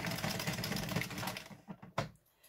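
An addi Express King Size knitting machine knits rows of scrap yarn with a steady, rapid mechanical clatter. The rattle fades near the end into a few separate clicks and one sharper knock, with no talking.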